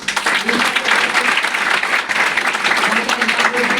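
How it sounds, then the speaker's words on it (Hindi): Loud, dense audience applause at an event honouring a company founder, steady clapping filling the whole stretch with a faint crowd murmur underneath. "वाली साहब के लिए जोरदार ताली।"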